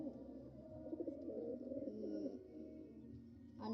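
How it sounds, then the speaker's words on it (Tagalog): Pigeons coo softly nearby, a soft, continuous, wavering run of low, burbling calls with no talk. "ipapakita ko mga kalapatids"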